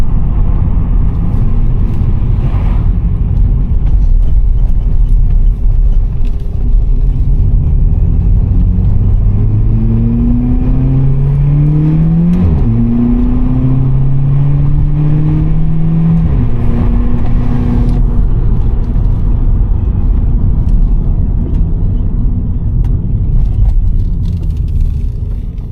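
A VW Polo GTI 6C with its 140 kW engine and 7-speed DSG pulls steadily from the driver's seat. Rising and falling engine tones mark shifts through the gears over a continuous rumble of road noise, and no one speaks.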